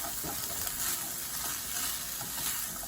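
Cooked hyacinth beans stirred into millet upma in a pan, a soft steady sizzle with faint scraping strokes throughout, close and quiet, with no talk.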